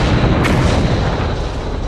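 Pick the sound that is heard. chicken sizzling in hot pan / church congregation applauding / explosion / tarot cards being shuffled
explosion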